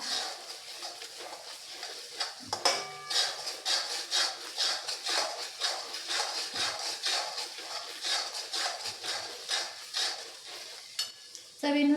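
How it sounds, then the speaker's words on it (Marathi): Curry leaves tossed into hot masala for a spicy masvadi rassa, giving a steady crackling sizzle with repeated spoon-stirring scrapes against the pan, close and continuous with no talking. "चांगलं मिक्स झालं मसाला आता मी कढीपत्ता टाकून घेतला"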